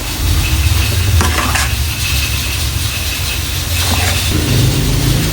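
A large batch of spring roll filling is stirred and mixed in a pan, giving a loud, continuous scraping and sizzling wash with a few rougher stirring strokes partway through, and no one speaking.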